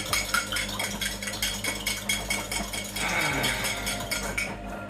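A drink mixed with salt in a container, with a steady run of bright metallic clinks and taps like a spoon stirring against the sides, repeated rhythmically for several seconds, close and moderately quiet, without talk.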